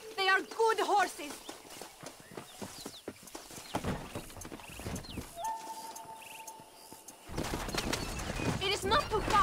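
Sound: horses pulling stagecoach in video game

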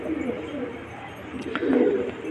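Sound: pigeons

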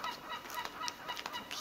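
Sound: fowl clucking in a village

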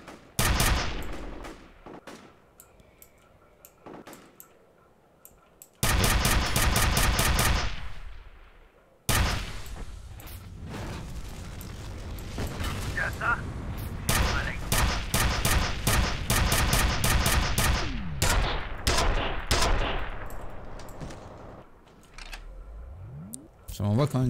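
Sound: gunfire in the video game F.E.A.R. Extraction Point

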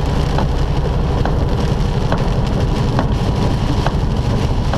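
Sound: heavy rain on a truck while driving

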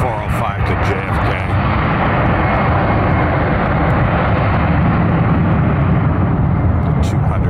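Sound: jet airliner taking off from runway

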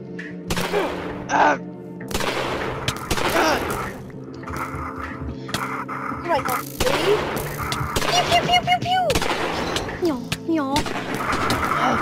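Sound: gunshots in a video game

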